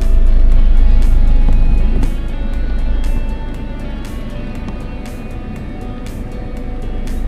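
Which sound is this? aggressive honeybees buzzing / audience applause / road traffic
road traffic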